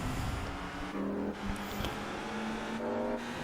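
Race car engines drone steadily in Gran Turismo 4 while overtaking a BMW, a sustained loud motor tone shifting pitch slightly with a brief whoosh as another car is passed.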